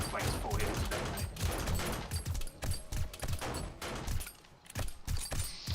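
Repeated blasts and crashing bursts from a detonating zombie in a video game, a dense run of loud explosive hits and rumbling impacts filling the whole stretch.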